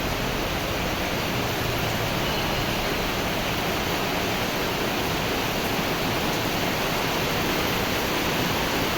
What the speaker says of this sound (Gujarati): ધમધોકાર વરસાદ ચાલુ છે પહેલા.